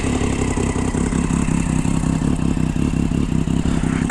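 A 600cc Aprilia motorcycle engine runs loud and close with a deep, steady, rapidly pulsing exhaust note and some mechanical clatter, holding an even idle throughout.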